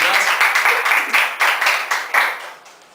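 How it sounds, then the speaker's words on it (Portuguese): A studio audience at a televised youth debate on politics and religion breaks into brief, lively applause, a burst of clapping that fades over a few seconds. "Uma salva de palmas aí para essas opiniões."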